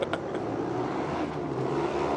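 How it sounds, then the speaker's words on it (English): A Formula Student race car roars past the grandstand, a loud, continuous engine drone that stays steady and fairly close without any talk over it. "It's a very, very noisy car."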